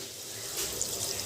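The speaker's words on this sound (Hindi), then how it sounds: "अब हम इसमें पानी ऐड करेंगे" Water pours steadily into a pan of soybean and pea curry on the stove, a continuous gentle splashing stream with no voices over it.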